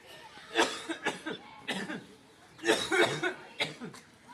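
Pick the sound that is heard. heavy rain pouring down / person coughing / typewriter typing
person coughing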